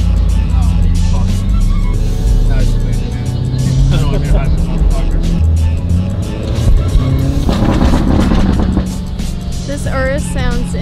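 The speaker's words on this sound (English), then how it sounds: "This Urus sounds insane." A Lamborghini Urus fitted with a Rift exhaust drives in a convoy with Mercedes G63s, its engine loud and close with revving pulls and shifts as voices talk over it.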